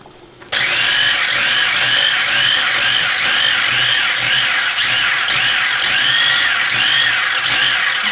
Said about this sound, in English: What I've done is got my mini chopper out.